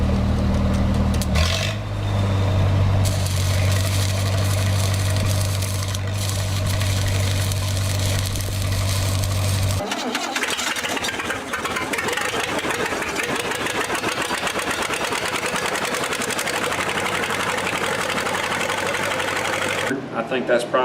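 Engine-driven pipeliner welding machine like the Lincoln SA200 running steadily and loud, a continuous mechanical drone that shifts in tone partway through, with a voice talking over it.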